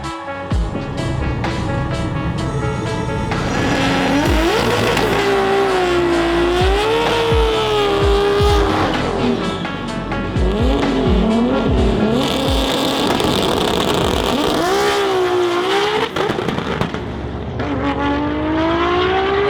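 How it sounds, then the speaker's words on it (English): A 1998 Toyota Supra drag car at a World Cup Finals event runs hard down the track, its loud, continuous engine roar broken by sharp popping backfires and rising and falling pitch through the gears. "Backfire there from the Yevtushenko machine"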